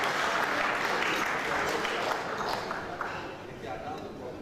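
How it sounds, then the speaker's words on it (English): An audience at a school anniversary celebration applauds, a moderately faint, continuous patter of clapping with voices mixed in underneath. "Please give a round."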